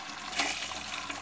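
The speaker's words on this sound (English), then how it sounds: "this is my garden hose under full pressure" Garden hose under full pressure, water rushing in a steady, loud hiss with no pauses and no voices.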